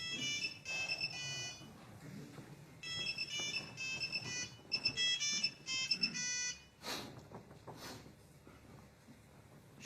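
Phone ringing in a French drama film, a repeated electronic ringtone in bursts mixed with soft voices and room noise.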